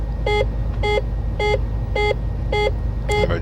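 Repeated electronic warning beeps in a Flight Simulator X aircraft cockpit, six short evenly spaced tones about every half second, loud over a steady low engine hum.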